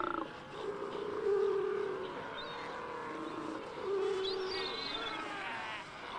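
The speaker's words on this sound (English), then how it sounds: "This baby sea lion emerges tail first into the crowded and noisy colony." Hoarse, bellowing sea lion calls rise and fall over a busy, crowded colony, with a couple of louder groaning cries among fainter distant barks.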